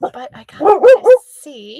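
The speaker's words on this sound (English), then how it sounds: "That's my dog" A dog gives a few short, close barks and yips, loud and rhythmic, mixed with a person speaking in a home kitchen during meal prep.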